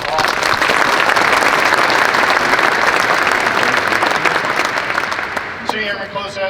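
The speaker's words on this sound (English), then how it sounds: "let's give a round of applause to the singer of the national anthem" An audience at the 931st Air Refueling Wing change-of-command ceremony gives dense, steady applause for the national anthem singer. It fades near the end as a voice begins to speak.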